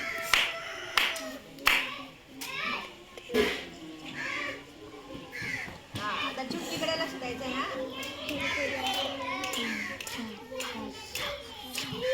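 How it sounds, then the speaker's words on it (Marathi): Schoolchildren in a village classroom clap in a counting game, starting with several sharp separate claps. Their chatter and voices then take over, and light clapping and snapping are mixed into the noise. "चला आता टाळी आणि चुटकीकडे लक्ष द्यायचंय"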